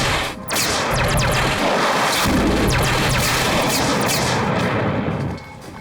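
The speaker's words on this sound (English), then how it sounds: "Armed, firing countermeasures." A spaceship fires countermeasures as a sci-fi weapons effect: a loud, sustained barrage of rapid blasts and booming impacts, starting abruptly after a brief pause and cutting off near the end.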